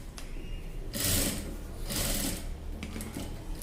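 Sewing machine stitching buckram cloth along a dress neckline, a close, steady mechanical whir that swells in two louder bursts as the stitching speeds up, then settles back to a lower hum.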